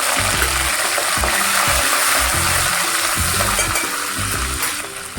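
Crushed garlic and curry leaves frying in hot oil, a close, bright, steady sizzle with low rhythmic bubbling underneath, fading slightly toward the end.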